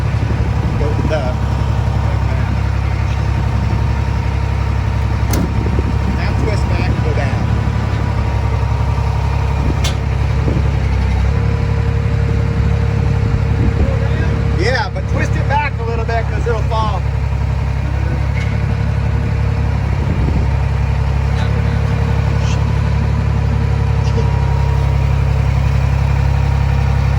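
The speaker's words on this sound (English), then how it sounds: "Why don't you just drive the truck forward?" A truck engine runs in a heavy, steady low drone as the truck creeps forward beside a garage, with people talking over it and a few clanks and knocks.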